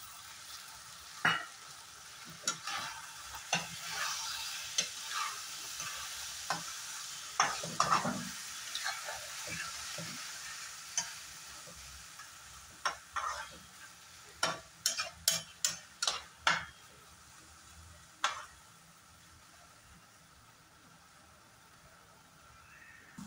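Yogurt stirred into a sizzling masala for okra in a pan: a quiet steady sizzle with a spoon scraping and clicking, then a run of sharp, evenly spaced taps on the pan rim near the middle.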